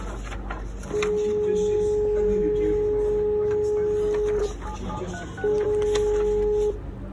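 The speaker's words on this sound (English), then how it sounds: "Now it's dialing." Brother IntelliFAX 2840/2820 fax machine dialing: a steady pair of pure tones holds for about three and a half seconds, breaks briefly, then sounds again for just over a second over a faint background hum.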